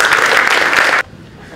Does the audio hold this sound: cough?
no